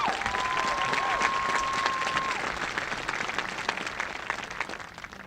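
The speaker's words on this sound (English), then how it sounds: "So give them a round of applause, please." Sustained applause from a large crowd at a 2024 high school graduation commencement, loud and steady throughout, with a thin whistle-like tone early on before tapering slightly.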